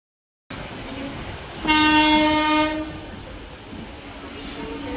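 Heard aboard a moving passenger train, a steady rumble continues while a loud horn blast sounds for about a second, then the rumble carries on.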